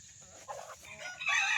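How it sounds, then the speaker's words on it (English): Backyard garden chickens cluck and a rooster crows close by, the calls rising in loudness toward the end of a brief outdoor moment with no talking. "the chickens are tearing up a cantaloupe out here."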